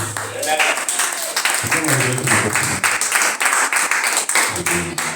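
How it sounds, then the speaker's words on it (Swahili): A church congregation claps along under loud singing and talk, with dense, rhythmic clapping that runs throughout and carries the energy of a lively worship gathering. "Piga makofi."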